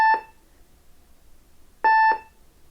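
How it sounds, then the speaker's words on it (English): A 1988 Junior Computer kids' computer by Team Concept gives two short, bright electronic beeps about two seconds apart, with near silence between them. "If you don't give it attention, it just starts beeping at you."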